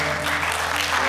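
Applause from a crowd at a national large-motorcycle club assembly in Indonesia, a dense, steady wash of clapping filling the whole moment.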